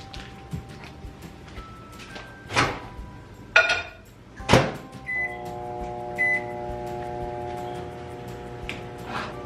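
A kitchen microwave oven hums steadily while butter melts inside, with clattering dishes, a few sharp clicks and knocks, and short electronic beeps scattered across the nearly ten seconds.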